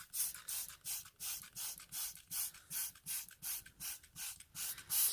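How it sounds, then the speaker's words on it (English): Clorox Pet Urine Remover is sprayed onto carpet from a trigger bottle, giving about fourteen quick, evenly spaced hissing squirts in a steady rhythm, close and fairly soft, with no talking. "so we're going to spray this and see the difference that it makes"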